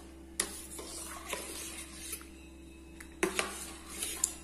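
Ingredients being stirred into milk for homemade kulfi, with quiet scraping and spoon strokes broken by a few sharper clinks against the pot, close and without speech.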